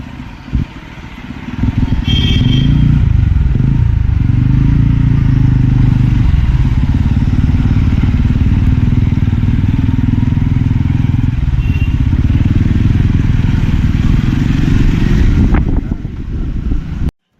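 Motorcycles ridden on a road trip toward Wayanad through forest, a loud sustained engine drone with wind rush heard from the moving bike, building up after a quieter opening and easing near the end.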